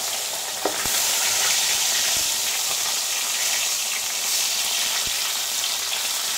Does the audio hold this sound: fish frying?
yes